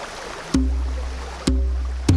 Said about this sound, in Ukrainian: І щойно вода загуркотіла